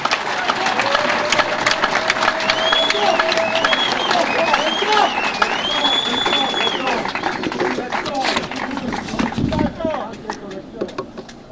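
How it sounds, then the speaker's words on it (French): A crowd at a political rally applauds and cheers for the head of state, a dense sustained clatter of clapping mixed with whistles and shouts, while voices carry over it. "Applaudissez très fort pour le chef de l'État."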